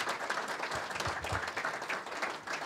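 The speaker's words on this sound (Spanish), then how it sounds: "Así que tranquilamente podemos renovar el aplauso." An audience applauds after a talk at a real-estate event on architecture in Mar del Plata, a steady wash of many hands clapping for the full length, moderately loud and unbroken.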